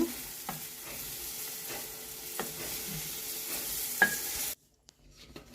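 Dried red chillies fry in a little oil in a pan, a quiet steady sizzle with a few sharp scrapes of a spoon stirring at regular intervals, then the sound cuts off abruptly into near silence.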